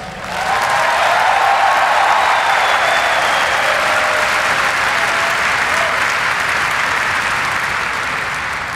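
A large crowd at a presidential victory speech claps and cheers, the applause swelling quickly and holding steady and loud with no talk over it.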